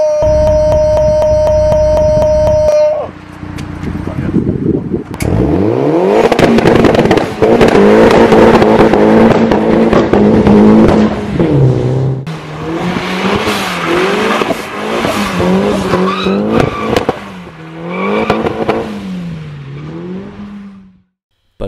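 Turbocharged Mazda Miata MX-5 with 277 horsepower, first idling with a steady tone, then revving and accelerating hard through rising and falling engine sweeps, loud and close, with gear changes and a sudden cut at the end.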